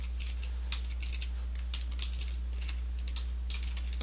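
Typing on a computer keyboard: a quiet run of irregular light key clicks, close and steady over a low background hum, with no voices.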